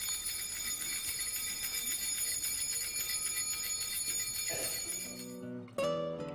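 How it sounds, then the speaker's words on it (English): Altar bells ring joyfully and continuously during Mass as the chalice is elevated, a dense shimmering peal that fills the space before fading and giving way to a few clearer, separate chimes at the end. "Continue to ring the bell joyfully until the chalice is lowered."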